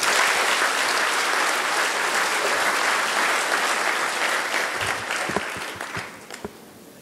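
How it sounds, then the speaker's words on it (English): An audience at an accountants' annual general meeting claps for the vice chair, loud sustained applause that thins out into a few scattered claps near the end. "Let's clap for the Vice Chair again."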